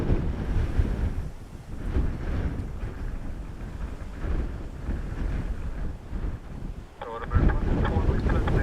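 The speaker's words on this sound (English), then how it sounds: "Heavy winds again." Heavy wind buffets the microphone at Dublin Airport during Storm Floris, a loud, uneven rumbling gust noise that surges and drops, with brief aircraft or vehicle sounds breaking through near the end.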